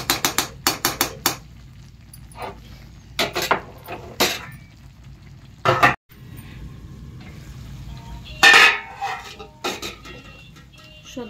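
Metal clatter of a ladle and pot as rice goes into a pot of stuffed brinjals for a pulao, with sharp knocks and scrapes in irregular clusters separated by quiet pauses, close and fairly loud.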